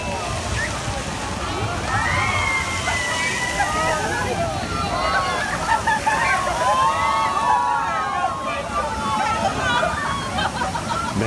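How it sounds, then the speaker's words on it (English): Water from a geyser at Disney California Adventure sloshes and splashes continuously over a busy crowd, with people chattering and squealing throughout. "There's a geyser that goes up, not that one, right in there. It goes up, and a lot of times people don't expect it and they get drenched"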